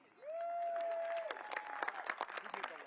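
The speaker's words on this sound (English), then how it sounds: "I get to hear real applause, not emojis on your computer screen" A live audience at an in-person meet-and-greet in Saskatoon breaks into applause, a burst of clapping that starts after a sustained voice tone and continues in scattered, fairly faint claps.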